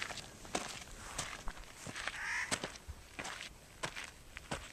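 Birds cawing around bristlecone pine trees on a mountainside, harsh crow-like squawks repeating irregularly several times over a background of outdoor crunching steps.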